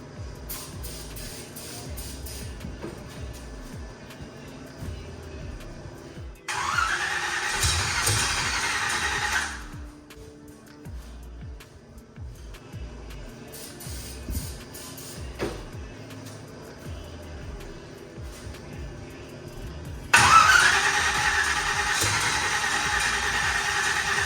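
An engine with a nearly dead battery tries to crank, giving two separate sluggish, whirring bursts of a few seconds each with quiet pauses between them.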